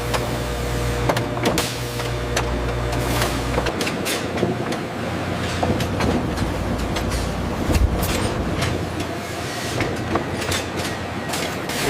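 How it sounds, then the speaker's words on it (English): Raw cowhide is fed through a leather splitting machine whose band knife separates the hide; a steady loud mechanical rumble with rhythmic clacking and sharp transient clicks runs throughout, with no speech. "the raw cowhide is guided into the splitting machine"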